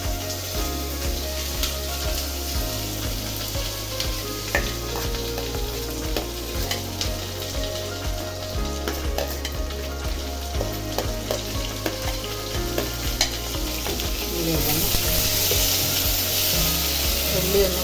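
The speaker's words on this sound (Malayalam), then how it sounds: "ഉള്ളി ഒന്ന് വാട്ടിയെടുക്കുക." Onions sauté in a hot pan with a loud continuous sizzle, while a utensil scrapes and stirs in a steady repeating rhythm close by, the frying growing brighter near the end, no speech.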